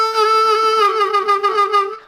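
A harmonica holds one sustained note with an uneven throat vibrato that pulses and wobbles irregularly, like a beginner's early attempt, loud and close with no speech, then stops short.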